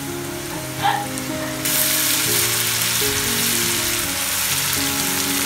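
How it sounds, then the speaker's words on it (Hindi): Steady sizzling of ginger garlic paste frying in hot oil for biryani, with a brief clatter near the start and a constant crackle throughout. "अब इसमें डालेंगे अदरक लहसुन का पेस्ट,"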